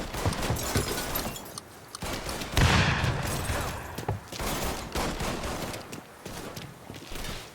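Gunfire in Mafia 3 Definitive Edition: dense bursts of shots and fusillades in repeated volleys, with a heavy blast near the middle and a few quieter gaps, loud and close, with no talking.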